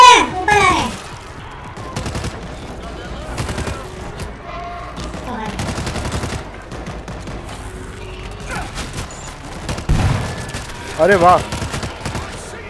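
Grenade launcher firing in World War Z amid zombie combat, loud booms and gunfire bursts scattered through the scene, with excited voices talking in Hindi over the action.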